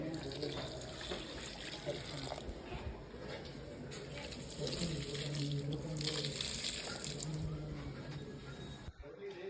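Water runs steadily from a tap or hose for watering plants, a continuous moderate splashing flow with people talking over it.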